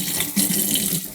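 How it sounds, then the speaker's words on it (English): Tap water streaming into a kitchen sink during hand washing, a steady close splashing rush that runs unbroken and alone. "So we're gonna wash our hands."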